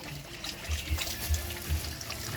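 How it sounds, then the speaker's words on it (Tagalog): Water runs into a container as a soft, continuous trickle, faint and nearby, with no voices. "Nagsahod ka tubig?"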